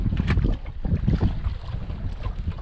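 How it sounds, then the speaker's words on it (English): Strong wind buffeting a fishing boat on open water during spring walleye fishing, a steady low roar with gusty surges throughout, loud and close to the microphone, no voices. "Super windy out right now"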